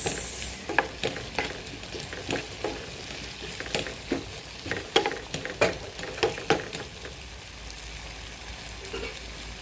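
Spatula stirring tortilla de patata as it fries in a pan, with a steady background sizzle and repeated scraping strokes that land in an uneven rhythm, close and moderately loud.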